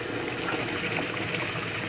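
Boiling water poured from a kettle into a bowl of meat stock seasoning, a close, steady gushing pour lasting a couple of seconds with no talk over it.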